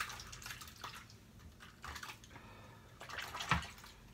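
A razor rinsed under running water after shaving, a faint, close splash and trickle with a few light knocks and drips.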